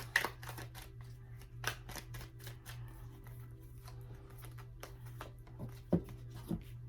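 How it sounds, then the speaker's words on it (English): A deck of tarot cards is shuffled, producing a run of brisk, papery riffles and taps in irregular bursts against a quiet room hum, with no one talking. "Two more shuffles."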